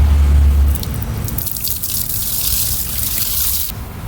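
Water pours and splashes steadily during an outdoor bath in Karnataka, a close, broad wash of gushing and dripping that is loudest at the start and continues without speech.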